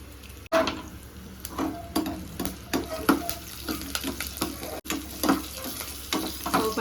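Mustard seeds, green chili, coriander and turmeric tempering in hot oil for a street-style chutney: a close, steady sizzle with repeated sharp sputtering pops, with no talking.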